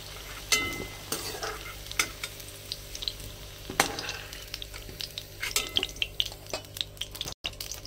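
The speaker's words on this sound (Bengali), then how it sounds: "এই দেখো আমি হালকা করে ভেজে নিয়েছি।" Kohlrabi pieces fry lightly in a pan with a continuous soft sizzle, while a utensil repeatedly scrapes and clinks against the metal in an uneven stirring rhythm, close and without speech.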